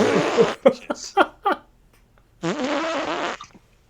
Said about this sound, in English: who's doing the farting?